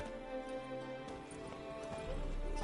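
Horse hooves clip-clopping in a video game, a brief run of quick hoof beats over a musical background, fairly faint and with no talking.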